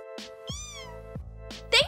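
A cat meows several times in short drawn-out calls, clear and close, in a playful spooky scene set in a witch's room with dolls.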